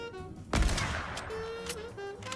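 Gunfire in Fortnite, a sharp loud shot followed by a short rattling burst and lingering game sounds, with faint tones in the background.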